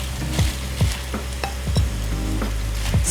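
Onions and spinach frying in a pan for japchae noodles, a steady close sizzle with repeated stirring scrapes and soft knocks of the utensil against the pan, no voices.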